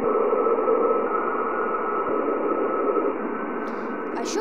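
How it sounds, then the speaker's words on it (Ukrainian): Recorded radio emissions from the planet Jupiter form a steady band of crackling hiss that fills the clip evenly, with a couple of faint high chirps near the end and no voices. "Годинами, слухаючи тріск та шипіння планети, дослідники починали чути свист та клекіт пташок."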